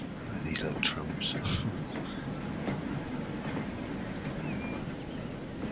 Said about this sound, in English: Like these little trams.